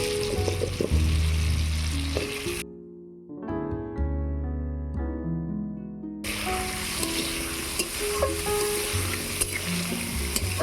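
Washed potatoes fry in spiced oil with a loud, dense sizzle, broken midway by a quieter stretch before the crackling returns at full strength.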